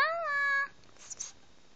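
A single drawn-out cat meow, clear and close, followed by a couple of faint soft sounds and near silence.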